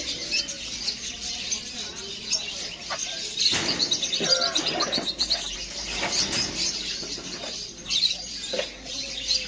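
Pigeons at a bird market in Souq Al Wakrah, Qatar, coo and chirp with bursts of wing flapping, set against a busy background murmur of the market.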